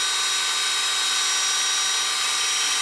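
A wood turning tool cuts the exterior of a wooden wine glass spinning on a lathe, giving a steady, loud, high-pitched whirring hiss that holds evenly throughout with no talk.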